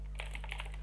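Keystrokes on a computer keyboard, a few quick close taps at an uneven rhythm over a steady low electrical hum.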